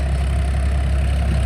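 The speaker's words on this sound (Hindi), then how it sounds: "ये ट्रैक्टर आपके सामने है भाई, एक नंबर का चल रहा है बिल्कुल" A Farmtrac 60 tractor fitted with a rotavator, running after tappet and pump adjustment, gives a steady, loud low engine drone with a constant rumble and no talking.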